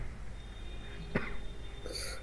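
A single short cough from a person with a sore, scratchy throat during a phone chat, heard once at close range against quiet room noise.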